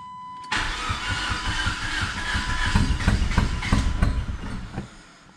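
A Pontiac GT Turbo with a five-speed and a broken timing belt cranks and tries to fire, a loud rhythmic churning of the starter that grows rougher and stronger with uneven chugs before fading.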